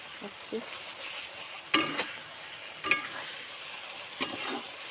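Eggs dropped into hot oil in a pan for an egg curry fry, giving a soft continuous sizzle with a few sharp clinks and bursts of spattering, fairly quiet and without speech.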